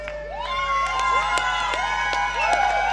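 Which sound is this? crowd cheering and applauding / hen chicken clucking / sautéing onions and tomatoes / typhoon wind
crowd cheering and applauding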